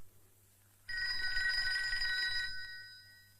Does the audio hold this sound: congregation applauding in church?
no